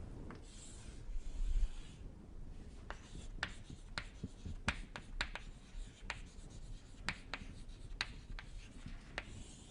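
Marker or chalk strokes on a lecture-hall board, a series of short scratchy squeaks and taps in irregular bursts, moderately close with a faint room hiss and no talking.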